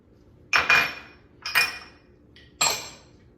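Two eggs are cracked into cornbread batter: three sharp clinking knocks against a bowl rim, spaced roughly a second apart, close and fairly loud over a quiet background, with no talking.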